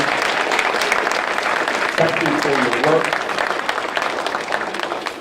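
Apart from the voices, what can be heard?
audience applause for award recipients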